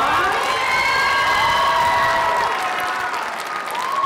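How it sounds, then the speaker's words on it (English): A live audience at the L'Anse Creuse Idol 2024 singing competition breaks into loud, sustained applause with cheers and whoops after a finalist's performance, a dense crowd roar that fills the space and eases off slightly near the end. "let's give her a round of applause"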